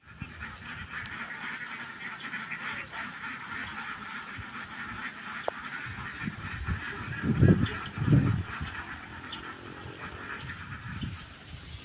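Domestic ducks (itik) quack and honk as a flock heading into their pen, a steady outdoor murmur with two louder bursts of calls near the end.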